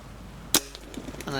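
A single sharp crack from an HW97 air rifle fired at a wood pigeon settled near a decoy hide, one brief snap followed by faint rustling and quiet background.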